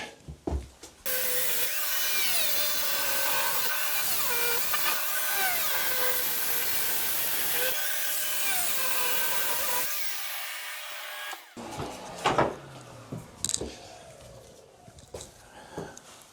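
A chisel scrapes and pries at tiles in a shower, making a long harsh grinding scrape, then a pause and a series of sharp knocks and clinks as pieces break loose.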